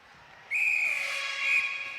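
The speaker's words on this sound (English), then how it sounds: "The whistle has gone" A referee's whistle in a Malaysia vs Singapore basketball match gives one sustained shrill blast of about a second and a half, loud and clear over a quiet background.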